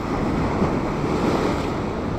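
Waves surging steadily against a rocky sea shore, with a continuous wash of surf and wind noise close by and no voices.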